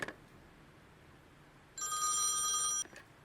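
A telephone bell rings once in a radio play, a bright metallic ringing burst lasting about a second that stops abruptly, following a short quiet stretch.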